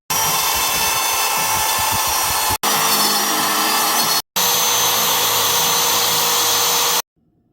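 A CNC machine cuts an aluminum adapter plate for an International Harvester 4130 skid steer, a loud steady high-pitched whine and roar that breaks off twice briefly and then stops abruptly into near silence.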